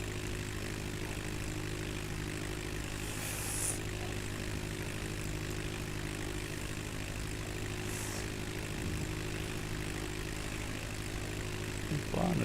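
Propeller airplane droning steadily in flight in a flight simulator game on a route from Michigan City to Meigs Field, a constant engine hum at moderate level with a couple of faint brief chirps and no talking.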